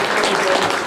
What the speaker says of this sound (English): Round of applause for Luke, please, ladies and gents.